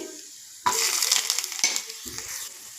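Garlic, ginger, chana dal and urad dal hit hot oil, a sudden loud sizzle that keeps crackling steadily close by, with a few stirring scrapes. No one speaks.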